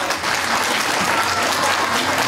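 Applause from the crowd at a Three Kings procession in Dziemiany in 2013, a dense, steady clapping that holds at an even level from start to finish.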